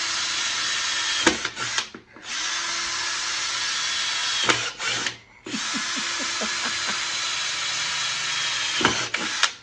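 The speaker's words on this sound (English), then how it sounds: "But you just drill some holes in it." A power drill whines loudly in long bursts through a plastic Honda Jazz airbox, stopping briefly twice between runs, with a few sharp clicks and knocks as it bites into material.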